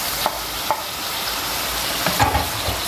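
Chicken and chopped tomatoes frying in a pot, a steady close sizzle running throughout with a few soft clicks and stirs of a utensil; no voices.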